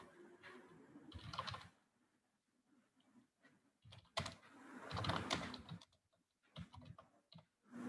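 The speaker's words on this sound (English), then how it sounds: "I'm typing something." Typing on a computer keyboard during a spreadsheet lesson, with bursts of quick close clicks separated by short pauses, fairly faint and with no talk over it.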